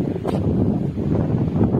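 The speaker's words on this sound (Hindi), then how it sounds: "काफी तेज तेज हवाएं चल रही है" Strong wind blows outdoors under heavy clouds with light drizzle, a loud, steady roar buffeting the microphone without a break.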